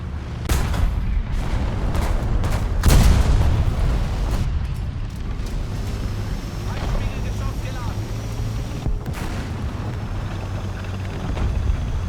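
Leopard 2AV tank cannon shots boom heavily in a tank battle video game on an Arctic map, several loud blasts spaced apart over a constant low engine rumble.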